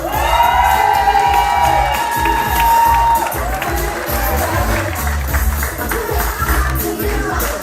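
Audience at a Miss Rock'n Guinguette pageant cheering, whooping and clapping for the contestants, loud and dense crowd noise with high-pitched shouts early on, settling into steady applause.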